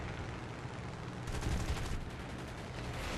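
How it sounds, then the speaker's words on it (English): Machine guns blazing in a War Thunder dogfight around a Supermarine Spitfire Mk.II, a dense continuous roar of overlapping gunfire with a slight swell midway, no voices. "I'm kind of afraid for friendly fire at this point, with all the guns blazing around there"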